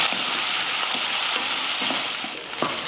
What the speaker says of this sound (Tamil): அடுத்து ஒரு நூற்றம்பது கிராம் அளவுக்கு சின்ன வெங்காயம் கருவேப்பில் சேர்த்து வதக்கிடுவோம்